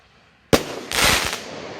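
A crackling firework artillery shell is fired from a mortar tube with a sharp, loud launch thump, followed moments later by a dense, rolling crackle that lingers and fades.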